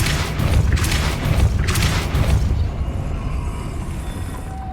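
A Depulso force spell fires in the Hogwarts Legacy video game: two booming bursts land about a second apart over a dense, rumbling game soundscape that slowly fades.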